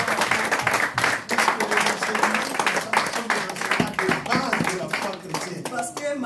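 A church congregation at a communion service applauds the Lord with sustained, dense clapping, many hands close and loud, with voices mixed in.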